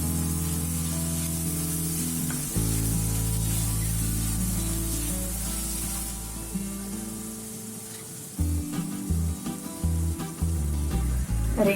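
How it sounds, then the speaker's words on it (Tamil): Mint and coriander leaves sizzle steadily in a hot frying pan, a loud continuous hiss, with stirring and scraping sounds joining in toward the end. "இதோட ஃப்ளேவருக்காக கொஞ்சமா புதினாவும் கொத்தமல்லியும் சேர்த்து வதக்கிட்டு"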